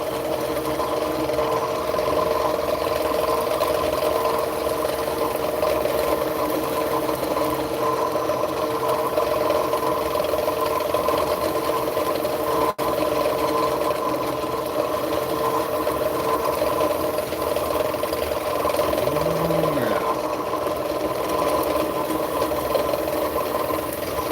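Braided fishing line winds onto a reel in a steady, continuous mechanical whir. The sound stays at an even level for the whole stretch, with a brief squeak near the end.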